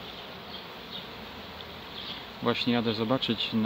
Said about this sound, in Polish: A pszczoły latają na akacje.